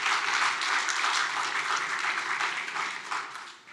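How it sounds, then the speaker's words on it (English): Audience at a ZK Hack Kraków closing ceremony applauding a winning team, a thick continuous patter of clapping that stays strong before thinning and tapering off at the end. "So I'd love to give them a round of applause."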